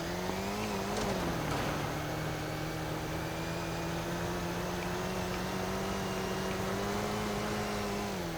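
A powerful car in the Roblox video game drives at a steady pitch after a brief rise near the start, a continuous engine whine with a low drone.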